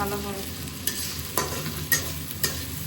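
Ginger paste, onion and tomato fry in a pan with a soft steady sizzle, cut by four sharp scraping stirs of a spoon at regular intervals.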